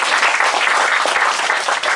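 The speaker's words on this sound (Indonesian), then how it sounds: "Tepuk tangan tuh." Dense applause from a large crowd at a gathering, steady continuous clapping filling the whole stretch with no voices over it.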